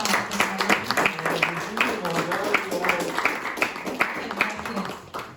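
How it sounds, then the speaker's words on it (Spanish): A conference audience claps in a brisk, rhythmic patter at moderate distance, the clapping running under a voice speaking Spanish. "Muy bien, un aplauso"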